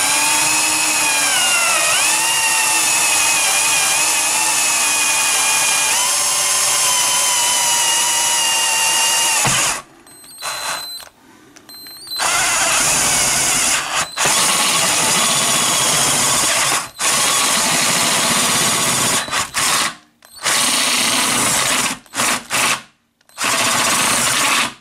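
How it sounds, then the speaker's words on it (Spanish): A power drill with a step drill bit bores a 16 mm hole, a sustained whining grind broken by several short pauses and restarts, loud and close with no talking. "Por lo tanto, voy a utilizar la broca escalonada"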